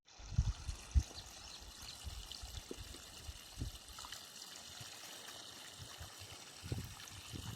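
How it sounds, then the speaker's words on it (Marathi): A steady trickle of running water flows continuously, with a few soft knocks and bumps near the start. "आपण इथं पाणी सोडून बघू"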